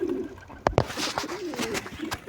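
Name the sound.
pigeon chicks and pigeons cooing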